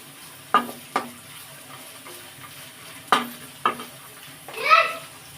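Onions fry in oil for vegetable rava upma under a quiet, steady sizzle, broken by a few sharp spoon clacks and scrapes against the pan and one longer stirring swish near the end.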